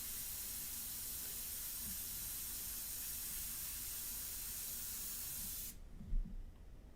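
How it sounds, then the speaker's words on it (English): Close, steady hiss of an airbrush spraying India ink, an unbroken airy stream lasting almost six seconds before it stops abruptly, leaving a few soft knocks behind. "So now the airbrush is working absolutely perfectly."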